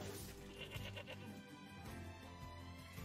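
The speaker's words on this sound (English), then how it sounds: "Sheep." Sheep in the video game NieR Replicant give a few clear, nasal bleats at close range, standing alone over a quiet game background with no talking.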